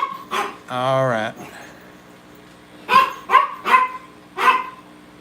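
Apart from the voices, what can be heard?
dog growling and barking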